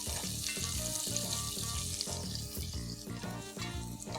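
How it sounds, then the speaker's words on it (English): Onions brown in a pan for a homestyle Indian chicken curry, giving off a steady, close sizzle with light stirring over soft background music. "brown the onions first"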